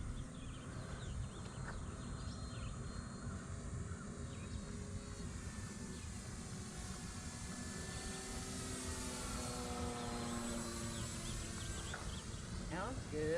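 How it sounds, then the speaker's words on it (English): Radio-controlled Cessna 182 scale model airplane flying, its engine a steady continuous drone with shifting pitch sweeps as it passes, heard throughout with people talking nearby. "Good scale takeoff, King."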